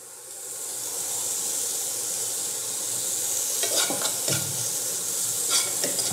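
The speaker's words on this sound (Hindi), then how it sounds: "अच्छी तरह से यहाँ पे हम मिक्स कर लेते हैं पनीर को" Paneer sizzling in a granite non-stick frying pan on high heat, a steady hiss joined later by scraping spoon strokes as the pieces are stirred, close and fairly loud.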